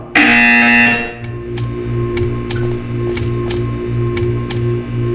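A loud, steady electronic buzzer sounds for about a second in the Portal video game, then gives way to a quieter, regular mechanical ticking over a low hum.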